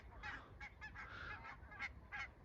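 Geese honk outdoors in a run of repeated loud calls, about seven or eight bursts over a low rumbling background, with no talking.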